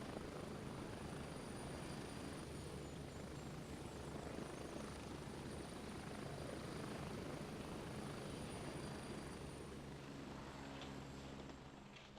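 A helicopter in the video game Gray Zone Warfare thrums steadily and loudly throughout, a continuous rotor and engine drone with a high whine on top that fades slightly at the very end.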